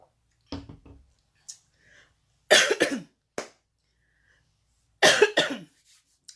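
A woman coughs repeatedly during a virtual panel talk, several harsh close bursts in two or three clusters separated by quiet pauses, with some throat clearing between them.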